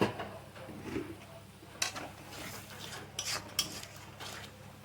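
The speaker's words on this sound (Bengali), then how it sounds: "এবার মশলাটা ভালো করে কষিয়ে নিতে হবে" Masala for stuffed pointed gourd (potoler dorma) is stir-fried in a pan, with a spatula clinking and scraping against the metal in several sharp strikes over a low, steady background hum.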